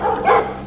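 A single short dog bark, close and fairly loud, lasting under a second.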